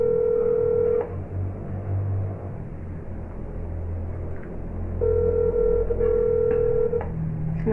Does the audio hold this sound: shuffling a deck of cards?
no